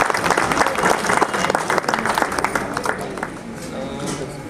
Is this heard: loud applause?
yes